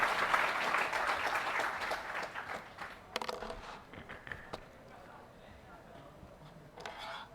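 An audience at a ceremony honouring newly selected primary school teachers applauds the founder and CEO of Utkarsh in welcome. The clapping starts fairly strong and fades within a few seconds, leaving scattered footsteps and a quiet hall.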